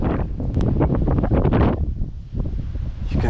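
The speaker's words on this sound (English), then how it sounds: "You can see the impact of wind gusts over the top of this water." Gusts of wind blow across open water near the Svartisen glacier, buffeting the microphone in rough, uneven bursts. The roar is strong at first, eases briefly, then picks up again.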